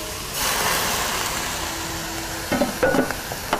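Vegetables stir-fried in a wok with soy sauce and cooking wine, a steady sizzle swelling after a quiet start, then several clattering spatula strikes and scrapes against the pan near the end.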